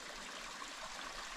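A forest stream in Pisgah National Forest keeps up a soft, steady, broadband rush of flowing water, faint and uninterrupted.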